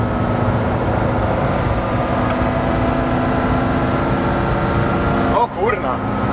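A Volkswagen Transporter T2 engine pulls hard at full throttle, a loud steady drone with dense harmonics filling the cabin throughout, briefly disturbed near the end by a sharp bump or gear change.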